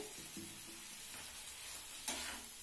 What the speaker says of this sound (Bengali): অল্প একটু তেল অ্যাড করে নিচ্ছি